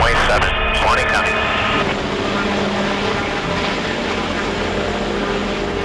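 Steady rotor and engine drone of an SB-1 Defiant helicopter in flight, loud and close, with a brief tonal warble at the start and no clear speech.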